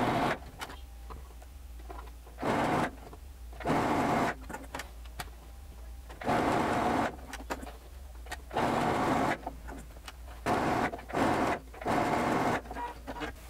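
A sewing machine stitches the seam of a mermaid dress in repeated bursts of about a second each, separated by brief pauses, close and fairly loud with no talking.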